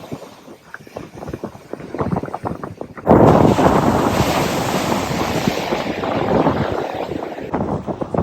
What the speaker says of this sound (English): Finally made it to the Pacific. Look at these breakers.